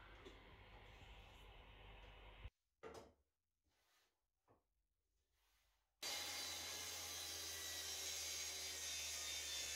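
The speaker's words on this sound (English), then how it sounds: "Once the cabinet sides were cut, I then went on to cut the inserts" A saw fitted with a glazed Festool blade cuts plywood shelf inserts, starting with a loud, steady whining cut, dropping to a few short rough bursts, then resuming a loud continuous cut.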